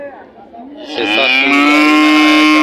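A cow at a livestock market lets out one long, loud moo that swells and holds, close by, with faint market background beforehand.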